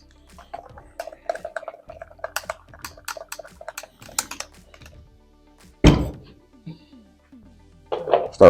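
Stirring powder into liquid swim bait plastic inside a cup, a series of light scraping taps and clinks repeating in an uneven rhythm, close up, with a couple of louder knocks near the end.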